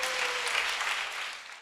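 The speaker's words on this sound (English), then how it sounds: "Clap for Jesus." A crowd at a healing service claps for Jesus in a dense burst of applause that holds steady, then tapers off quickly at the end, with no voices over it.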